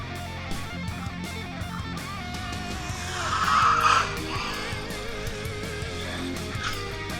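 An RLAARLO (XDKJ-025) 1:14 brushless 4WD RC truck rolls down a ramp, its electric motor whine and tire scrabble swelling briefly midway over steady background noise.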